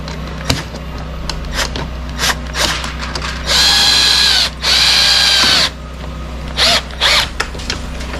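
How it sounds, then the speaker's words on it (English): A power tool drives the nuts and bolts of a composite front splitter on a Mercedes A35 AMG, with two loud, sustained whirring runs and short bursts after them, among clicks and handling noises. "You can now go and do up the nut and bolts that you put in earlier on."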